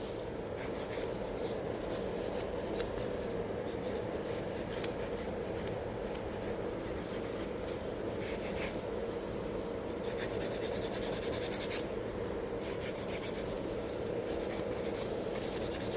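A 100-grit nail file buffs a client's fingernail during a stamped glitter nail-art manicure, giving a steady close scratchy rasp that continues with brief pauses and grows a little stronger near the end.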